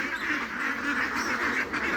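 A flock of ducks around three months old quacks continuously at close range, the calls overlapping in a loud, dense chorus with no talking.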